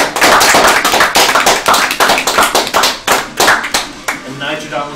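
Hands clap in a quick, uneven series of sharp, loud claps close by during a Cave Story speedrun at a live charity gaming event, with voices faintly beneath.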